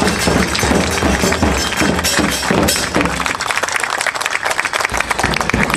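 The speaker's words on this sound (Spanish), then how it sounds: "Fuerte el aplauso para Romina" Lively audience applause and cheering for an elected councillor at a public event, dense clapping that thins briefly partway before surging again, with no speech over it.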